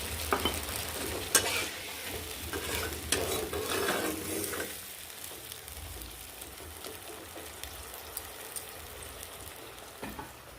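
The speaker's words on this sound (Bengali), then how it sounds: "এবার মশলা ধোয়া জল, এই গরম জল দিয়ে এটাকে সেদ্ধ করতে দিচ্ছি।" Hot water used to rinse the spice grinder is poured into chicken frying in a pan and stirred, a loud steady sizzle with a burst of bubbling that settles into a softer, even hiss.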